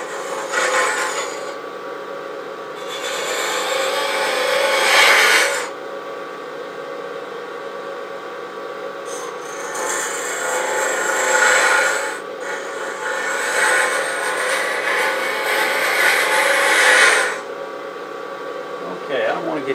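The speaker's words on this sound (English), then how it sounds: "I'm going to use this hook tool to get down below here, and it's a negative rake scraper, so it's going to be a little bit slow." A negative rake hook scraper cuts slowly into wood, making repeated rasping scrapes in long close strokes with short pauses between, over a steady fan-like hum.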